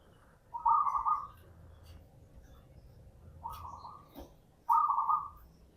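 A perkutut (zebra dove), agitated, gives three short mid-pitched cooing calls spaced a couple of seconds apart over a faint low background hum, fairly close and clear.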